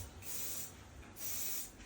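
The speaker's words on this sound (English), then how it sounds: "We're gonna go with some hairspray," Two short bursts of holding hairspray from an aerosol can misting onto hair during a barber's mohawk fade styling, each about half a second of soft, close hiss with a brief gap between.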